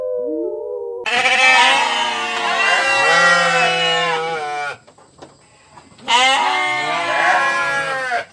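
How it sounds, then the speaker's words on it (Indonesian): Goats bleat at night, loud, close and insistent: long wavering cries one after another, a brief quieter pause, then another loud bleat. "Ngapa pula itu kambing pada berisik?"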